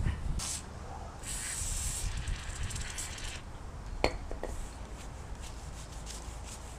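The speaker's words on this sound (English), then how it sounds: "I will blow all this old grease out." Compressed air blows old grease out of a tensioner bearing, a loud hissing blast in several short bursts with brief pauses between them and one sharp tap partway through.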